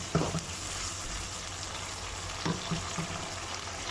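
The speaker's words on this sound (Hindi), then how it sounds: "आपका प्याज और आपका अदरक लहसुन जो है वो भुनना स्टार्ट हो गया है" Onion, ginger and garlic fry in a pan for a kaleji masala, giving a steady close sizzle with a couple of soft stirring clinks near the start and again midway.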